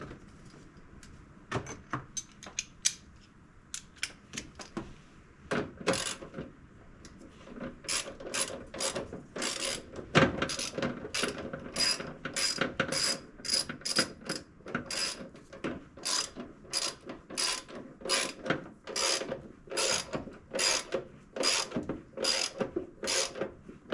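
A hand ratchet tightens a bolt on a Toyota FJ Cruiser door check, starting with a few scattered clicks, then settling into rapid bursts of close, crisp pawl clicking in a steady back-and-forth rhythm.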